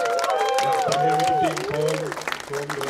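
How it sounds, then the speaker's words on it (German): Applause from an audience after the first round of a battle event at a cultural venue, steady clapping under loud talking and music-like tones, fairly close. "Riesigen Applaus für die beiden, die haben alles gegeben."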